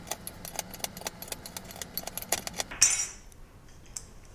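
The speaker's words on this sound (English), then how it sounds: "Then we give it a really good stir" Seasoned bread cubes are stirred in a bowl, making a run of quick, close scraping clinks and rattles at an uneven rhythm that stop abruptly near the end.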